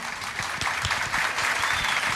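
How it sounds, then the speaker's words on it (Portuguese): A football crowd applauds the players steadily, dense overlapping claps filling the space at a fairly loud, even level throughout. "vamos aplaudir os jogadores, por favor"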